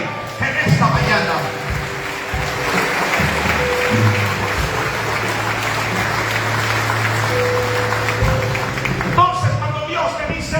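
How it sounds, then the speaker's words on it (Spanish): A church congregation applauds during a morning worship service: sustained clapping from a crowd, with a voice and music carrying over it. "aplaude al Rey en esta mañana"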